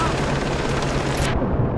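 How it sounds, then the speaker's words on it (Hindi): In the video game Far Cry 3, a chopper fires down from above, loud sustained rapid gunfire layered over a helicopter's drone, cutting off abruptly near the end while a person talks. "ऊपर की साइड से शायद चॉपर मार रहा है"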